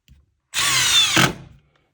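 Milwaukee M12 Fuel impact driver sinking a screw into wood: a short burst of high whirring that shifts into rapid, loud ratcheting impacts near the end, then stops, close and alone.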